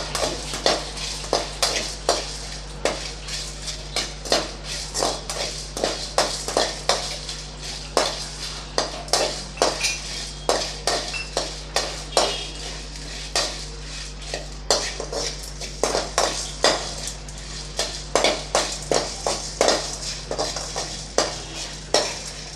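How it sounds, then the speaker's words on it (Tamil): Dried red chillies are roasted in a pan and stirred with a metal utensil, giving repeated close scraping and clinking strokes in an uneven rhythm over a steady low hum, with no talking. "நல்லா கருக விட்டுறாமல் நல்லா வறுத்து எடுத்துக்கலாம்"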